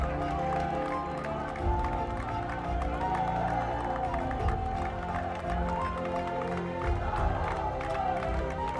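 BJP workers at the party headquarters applaud Prime Minister Narendra Modi, a steady, dense crowd clapping with some cheering that holds at an even level throughout, with murmured voices mixed in.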